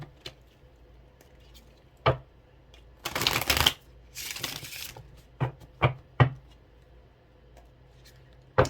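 A Rebel tarot deck shuffled close up in two riffling bursts, followed by several separate sharp card taps and clicks in a quiet room.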